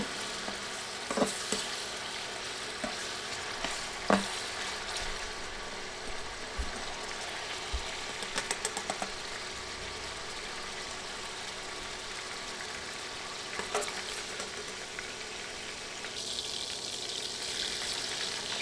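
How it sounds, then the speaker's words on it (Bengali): Prawns fry in hot oil in a pan, a steady close sizzle and crackle with a few sharp spatters and utensil knocks scattered through, the hiss swelling slightly toward the end. "চিংড়ি মাছ বেশি ভাজা যাবে না, 20-30 সেকেন্ড ভাজলেই হবে"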